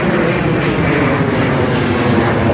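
An airplane passes overhead near an airport beside an underground conduit work site, a loud, steady engine roar filling the whole stretch with no talking.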